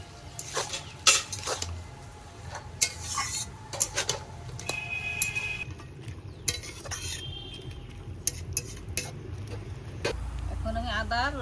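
Helencha greens go into a pot of thin curry gravy over low heat and get stirred, with a scraping ladle, clinking pot sounds and a soft sizzle beneath voices talking nearby.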